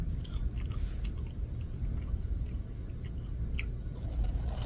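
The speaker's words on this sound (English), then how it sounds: "Let's have a few fries." Someone chews cold McDonald's fries close to the mic, with soft repeated biting and chewing sounds and no talk.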